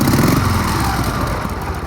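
Motorcycle engine running close by, a loud, steady low rumble with slight fluctuations in pitch, as a father gives rides on it; no voices.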